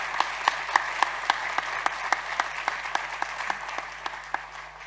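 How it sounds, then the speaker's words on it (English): An audience applauds at an energy efficiency conference, sparse individual claps ringing out at a fairly steady pace over a low constant hum in a large hall. "I think we should give a round of applause to the Commission."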